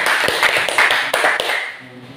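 A classroom of students applauds a student group, a short burst of close, dense clapping that fades out after about two seconds.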